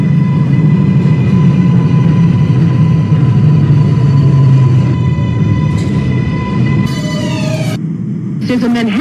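An R142A subway train running in the Openbve simulator game, a loud continuous rumble of wheels and motors with steady tonal whine, rising pitch sweeps near the end as it shifts speed, and a recorded announcement voice over it.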